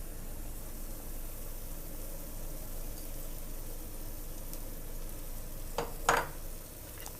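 Coriander leaves and onions sauté in a pan for mutton dum biryani, giving a soft, steady sizzle that runs throughout, with a brief clatter near the end.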